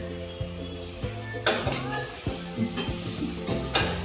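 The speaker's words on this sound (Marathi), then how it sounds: "इथं भाताला फोडणी देत होती" Rice with mixed vegetables and masala being tempered in hot oil in a home kitchen, with a steady sizzle and repeated metallic clinks and scrapes of a spoon stirring against the pan, close and fairly loud.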